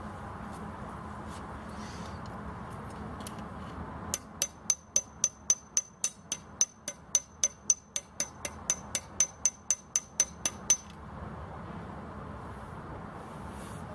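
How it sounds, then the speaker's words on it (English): A hammer strikes annealed copper to raise a pattern: about two dozen sharp, ringing blows in a fairly even rhythm, close and loud, over a quiet room with no talking. "I'm gonna try to give it one good whack to see what the pattern looks like"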